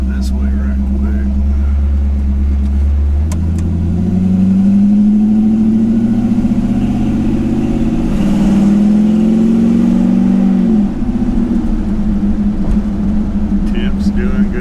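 Engine of a 1951 Chevy truck on the road, a loud close rumble that rises and falls in pitch through gear changes and acceleration, heard alone without voices.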